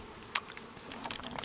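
Bees buzz from a bag full of bees in Jamaica, a close, steady insect hum with scattered crackles and rustles rising toward the end.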